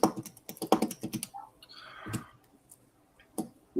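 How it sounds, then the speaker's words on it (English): A handheld fidget device clicks and ticks in quick irregular bursts close by, sharp little taps like keyboard typing, then falls quiet before one last click. "that was just my device thingy, my fidget device"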